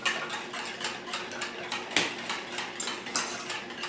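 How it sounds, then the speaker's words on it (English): A boy stirs an egg, sausage and cheese pie filling in a bowl, the utensil scraping and clinking in a quick, steady rhythm of close, repeated taps, with one sharper knock midway. "now he's going to stir that up 1 more time"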